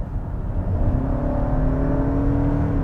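Engine of a 2021 Toyota Camry LE Hybrid with a 2.5-liter four-cylinder, a steady low hum with a faint rising whine as it pulls, heard from inside the cabin with no talking.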